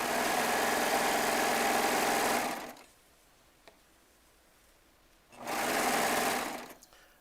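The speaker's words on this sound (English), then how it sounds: "I have the differential on the serger set at neutral" A Baby Lock Triumph serger stitches fabric in two loud bursts of rapid, steady machine whirring, the first about three seconds long, then a pause of near silence, then a second shorter run.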